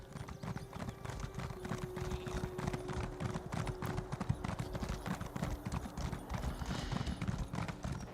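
Steady clip-clop of horse hooves from a mount ridden in Elder Scrolls Online, a continuous rhythmic trot at close range over a low ambient hum, with no talking.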